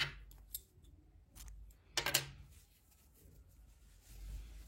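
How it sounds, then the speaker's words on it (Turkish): Scissors snipping yarn during crochet work, a few faint, quiet cuts close by, the clearest near the middle, with soft handling noises between them. "İpliği kesiyorum."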